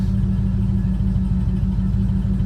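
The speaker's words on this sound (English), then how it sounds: "Let me start it up for you." A 1969 Super Bee's engine idles in drive with a steady, loud low rumble throughout, an even running note with no revving and no voices.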